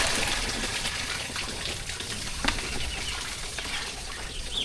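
Strong flowing water rushing during the rainy season, with ducks nearby, a steady broadband gush filling the scene at close range with no talk.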